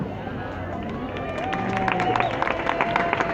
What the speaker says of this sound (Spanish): no hace falta que en cada interrupción venga un aplauso